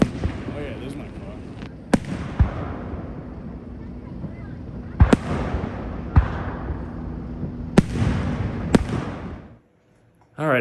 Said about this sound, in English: the fireworks were happening